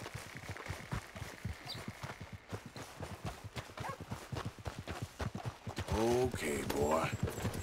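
Horse hooves clip-clop in a steady rapid rhythm in the Red Dead Redemption 2 video game, close and fairly loud, with a brief burst of other game sound near the end.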